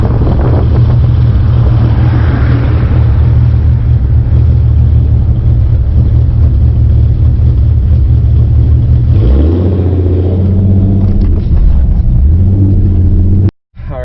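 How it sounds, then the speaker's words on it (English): Ford Mustang 4.0 V6 with an idle chop mod, heard loud and close from the car with a lumpy, rhythmic low rumble. The engine note shifts lower partway through and is cut off abruptly at the end. "About 850 RPMs and under, I hear the chop."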